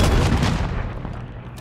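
Gunfire in the Warzone video game, a loud dense burst of shots and booms that starts heavy and slowly trails off, with no voices.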